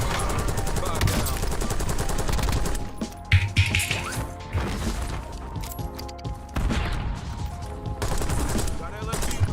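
Rapid bursts of light machine gun fire in the battle royale game Warzone, loud and close, with dense automatic volleys broken by short pauses and crashing impacts.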